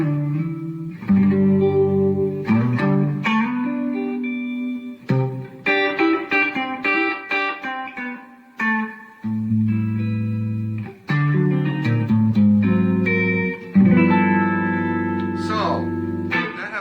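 Electric guitar runs through a Donner reverb pedal in mod mode, strummed chords and picked notes ringing with a lush, slightly wavering reverb tail, loud and close with short pauses between phrases.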